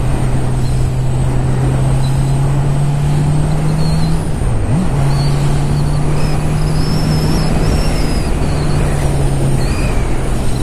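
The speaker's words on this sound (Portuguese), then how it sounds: "Sentimos o motor sempre cheio." A Honda CB650R motorcycle engine on a test ride, holding a steady loud drone with a brief dip in revs midway, along with constant wind and road rush close to the rider, with no talking.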